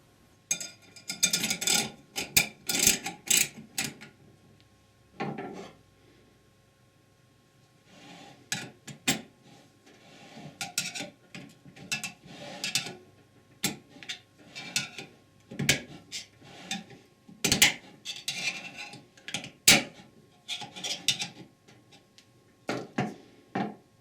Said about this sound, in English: Install the snap ring.